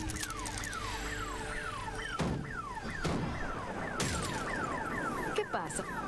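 An alarm raised in the video game Redfall: a repeating siren-like tone falls in pitch in quick, steady cycles, loud over a busy layer of game noise with a few sharp impacts.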